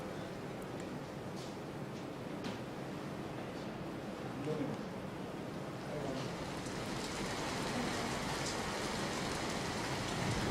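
Heavy monsoon rain pours down in Gujarat, a steady, fairly faint hiss of downpour on surfaces that swells slightly toward the end, with a voice speaking over it.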